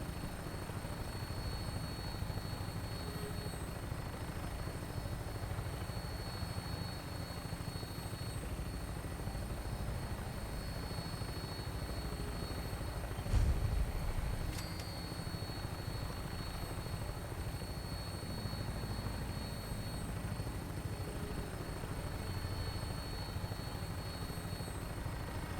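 A vertibird aircraft in Fallout 4 drones on with a steady, low rotor hum and rumble, constant and fairly quiet throughout, with a brief thump partway through and no talking.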